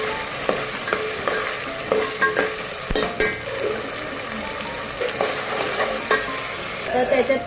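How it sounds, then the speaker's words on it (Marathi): Ground masala paste (vatan) fries in a pan while being stirred, a close, steady sizzle broken by scraping strokes and soft knocks of the spoon against the pan. "वाटण सुद्धा व्यवस्थित आपल्याला फ्राय करून घ्यायचं आहे."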